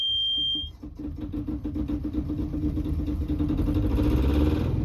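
A Yanmar diesel on a 1980 C&C 30 Mark I sailboat: a short electronic tone cuts off, then the little engine cranks, catches and settles into a close, rhythmic, rattling idle that grows slightly louder.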